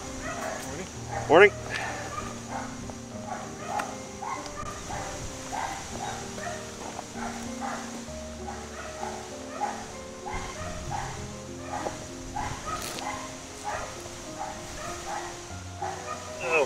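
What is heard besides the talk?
dog barking at the mailman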